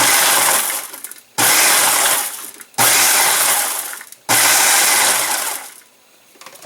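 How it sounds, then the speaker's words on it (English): Food processor chopping hot peppers, including serranos, for a homemade pepper sauce, running in four loud whirring pulses with brief gaps between them before falling quiet. "just going to get these ready and throw them in the food processor"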